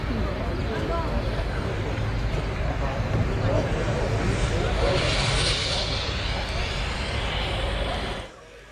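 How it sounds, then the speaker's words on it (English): A Boeing C-17A Globemaster III military jet of the US Air Force comes in for an assault landing at a flying display, flaps down and gear extended, its loud, broad engine roar steady and near before cutting off abruptly. "So the crew comes in with flaps down, gears extended for an assault landing."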